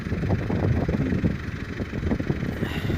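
A vehicle engine pulling in a raised second gear while mowing alfalfa, a steady mid-pitched drone running continuously and close throughout, with no talking.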